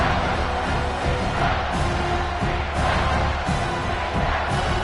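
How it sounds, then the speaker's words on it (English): A big football stadium crowd roars during a UCF versus Colorado game on third down, a dense sustained wall of cheering and shouting with rising swells, loud and distant-sounding throughout. "Third down and the crowd really getting into it."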